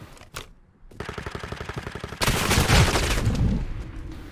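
Call of Duty: Modern Warfare 2 multiplayer gunfire: a couple of sharp single shots, then a rapid automatic burst, then a louder, denser roar of firing and explosions that slowly fades, with no voices.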